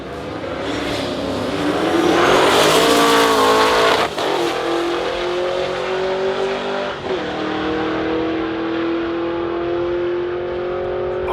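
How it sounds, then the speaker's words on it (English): A roll-racing car at a Street Car Takeover event in Michigan accelerates hard, its loud, angry engine note climbing steadily, with two brief gear-change dips before it keeps pulling alone at close range. "as you can tell from the video, the car sounds extremely angry"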